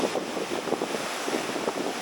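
Ocean waves breaking against a rugged lava rock shoreline in Puerto Rico, a continuous washing surf roar with gusty wind buffeting the microphone, no voices.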